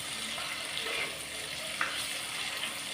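Food fries in a pan to a crisp, a close, steady crackling sizzle with occasional sharper pops as it cooks.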